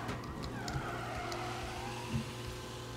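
A car engine revs and climbs in pitch in the game Mafia, with faint tire squeals and skids layered over a steady motor hum.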